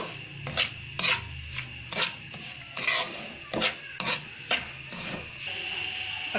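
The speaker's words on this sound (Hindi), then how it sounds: "अभी इसमें हम डालेंगे सूजी और इसको फ्राई करेंगे अच्छे से" Semolina frying in melted ghee, stirred with a spoon in a pot, giving repeated scraping strokes roughly every second over a soft, steady sizzle, close and moderately loud.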